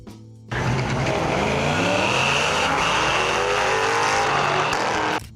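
Engine of a 1994 Ford Mustang SVT Cobra revving hard and accelerating, loud and close, with a steady roaring note that climbs for about five seconds before cutting off.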